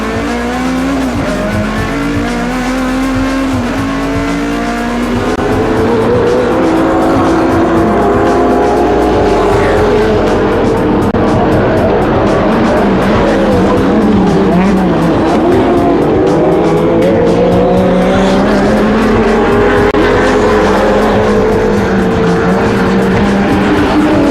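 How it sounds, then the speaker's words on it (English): A Ferrari race car in a GT championship round at Calder Park, working through paddle gear shifts as it slides out of turns, with a loud, continuous engine wail that rises and falls through the gears alongside bursts of tire squeal. "Dave Stevens was focused and determined at the controls of the Ferrari, with the paddle gear shifting machine power sliding out of the turns."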